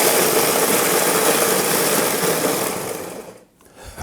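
A blender grinding bread into crumbs gives a loud, steady motorized roar for about three seconds, then winds down and cuts off, leaving near silence with a faint clatter.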